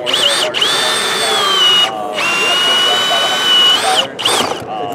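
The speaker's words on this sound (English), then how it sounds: "This is a positive placement gun." A positive placement nail gun demonstrated at a builders' trade show: a loud, close tool whine that runs in long bursts, broken by short pauses, with faint background voices.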